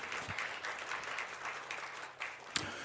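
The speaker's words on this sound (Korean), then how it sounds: "여러분 잘해 달라는 격려의 박수를 한번" A church congregation claps in encouragement, a soft, fairly distant spatter of applause running throughout, with a brief sharper clap near the end.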